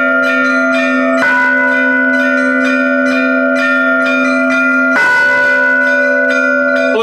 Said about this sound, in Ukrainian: Адже Дичином розливаються звуки дзвонів, як заклик підматися і битися за долю країни